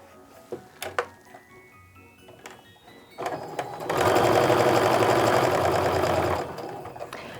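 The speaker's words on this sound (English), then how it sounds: "We're going to sew a 1/4 inch seam on both sides of my piece." Sewing machine stitching a quarter-inch seam, starting after a few soft clicks and handling noises, then running in a fast steady whir for about three seconds before stopping, close and clear.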